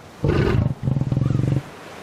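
A tiger in the survival game ARK lets out two loud, close roars, a longer one followed after a short gap by a second, rhythmically pulsing growl, with no talk over them.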